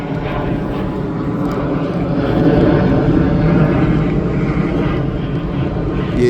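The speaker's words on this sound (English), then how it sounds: "you're definitely going to be hearing a lot of planes when you're on this beach" A low propeller airplane drones overhead at Rockaway Beach in Queens, a steady rumble that swells slightly in the middle and holds throughout, mixed with faint beach ambience and no clear talk.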